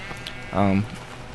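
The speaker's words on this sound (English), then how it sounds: "Oh, hello sheep in the door" A single sheep gives one short, clear bleat indoors against a quiet background.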